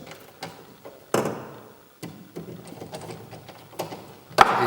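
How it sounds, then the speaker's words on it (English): Four Allen bolts are tightened on a Shimano rowing foot stretcher: close, irregular mechanical clicks, ticks and short scraping bursts, with a sharper rattle near the end. "we will tighten the 4 Allen bolts"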